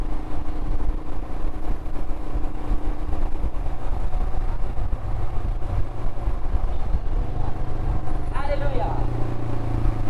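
Royal Enfield Himalayan 411 BS4 motorcycle on the move, with a steady, loud rumble of engine and road noise and a low drone throughout, and a brief higher whine near the end.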